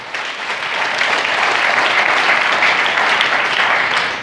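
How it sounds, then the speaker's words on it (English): Loud, sustained applause from a large conference audience, a dense wash of clapping that swells and holds throughout. "So a big round of applause for today."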